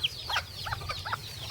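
Chickens in a farmyard give several short clucks and squawks in quick succession, fairly close and moderately quiet over a low background hum.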